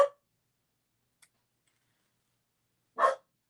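A small dog gives two short barks in a quiet indoor room, one right at the start and a second a few seconds later, with a faint tick in between.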